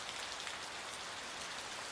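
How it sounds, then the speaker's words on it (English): Steady rain patters on a surface in a soft, even hiss of countless drops, faint and continuous. "It's just rain."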